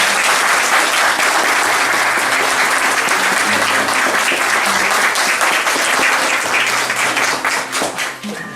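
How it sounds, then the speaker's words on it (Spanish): A conference hall audience applauds loudly and continuously, a thick wash of clapping that holds steady for several seconds before tapering off near the end, with faint background tones beneath. "Yo creo un aplauso muy grande."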